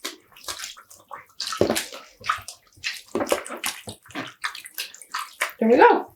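Water sloshes and splashes in irregular bursts as yarn is pushed down and soaked before home dyeing, fairly close and moderately loud.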